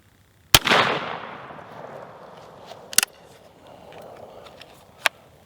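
Rossi Survival single-shot gun fired, one loud sharp crack with a ringing tail, followed by a few quieter clicks and knocks of handling.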